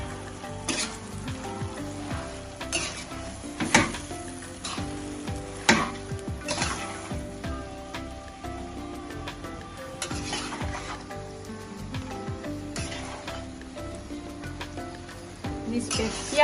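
Mie goreng noodles with bean sprouts are stir-fried in a pan, a steady close sizzle under repeated scraping and clacking strokes from the spatula that come every second or two.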